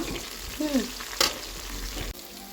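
Okra frying in oil in a pan, with a continuous close sizzle, a brief squeak and one sharp metallic scrape partway through.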